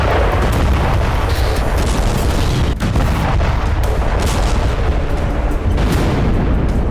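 Loud, deep booming explosions at a Russian missile depot in Tver rumble continuously, with heavy low-end roar and sharp bursts punctuating the din, close and overwhelming.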